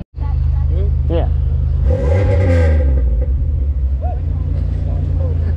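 A mid-2000s V6 car engine idles with a deep, steady rumble, then revs hard once around the middle and settles back, close by at an outdoor car meet with people talking over it.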